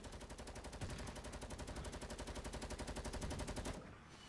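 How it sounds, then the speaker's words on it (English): Rapid automatic gunfire from a Fortnite match rattles in a fast, even stream of shots for nearly four seconds, then cuts off abruptly, leaving only a low residual hum. "They're just shooting each other."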